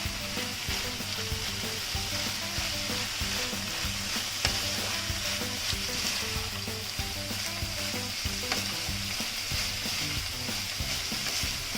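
Mushrooms sauté in a pan for a quiche filling, giving a steady, close sizzle throughout with occasional soft scrapes of stirring.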